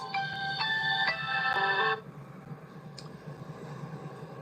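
A phone ringtone plays a bright melodic run of beeping tones for about two seconds, then cuts off, leaving faint room hum.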